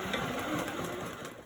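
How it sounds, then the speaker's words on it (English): An embroidery machine stitches in a rapid, even mechanical whir with fast repetitive needle clicks, heard faint and close for a brief moment. "my machine is just going to do some stitching for me"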